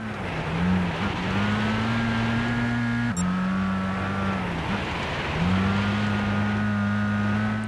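A 1990s Mitsubishi Lancer's engine in Gran Turismo 6 holds a steady drone, dips briefly on a shift or lift, then climbs back to a sustained racing pitch.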